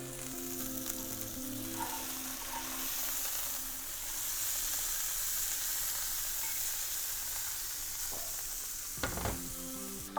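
Flank steak searing in a hot pan after being flipped, a steady loud sizzle and hiss throughout with a brief clatter of the pan near the end, no one talking.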